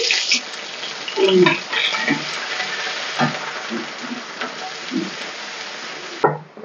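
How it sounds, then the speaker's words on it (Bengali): Grated ginger frying in hot oil in a home kitchen pan, a steady low sizzle with a few stirring scrapes and clinks, close and moderately loud, no talking. "দেখো আদাটা একটু লাল লাল করে ভেজে নিয়েছি।"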